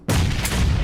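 A single sudden booming grenade blast in PUBG that hits hard and rumbles on for the rest of the short moment.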